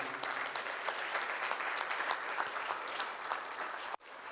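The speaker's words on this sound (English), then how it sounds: "Let's give us a wonderful clap to Rashmi Didi." An audience at a youth seminar session in Hyderabad claps steadily for several seconds, a dense patter of many hands at moderate volume that cuts off abruptly near the end.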